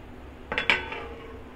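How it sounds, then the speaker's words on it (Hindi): A metal lid set onto a cooking pan on a home stove, two quick clinks close up, then quiet. "कुछ इस तरह से ढक के छोड़ देंगे और फ्लेम लो कर देंगे।"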